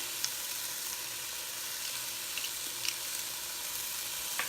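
Pressed garlic and peppers cook in a pan, giving a steady, moderate sizzle with faint intermittent pops and ticks, close and continuous without any speech.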